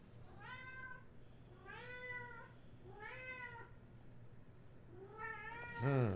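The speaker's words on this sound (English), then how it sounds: "you hear the cat, just ignore him. he's squawking to his people." A cat meows indoors during a boxed-wine tasting, repeatedly in drawn-out, rising-and-falling calls, four distinct cries with short pauses, over a low steady hum, ending in a louder burst.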